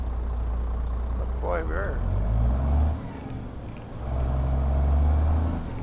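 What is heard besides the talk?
Kenworth W900 truck engine hauling cattle, from video game American Truck Simulator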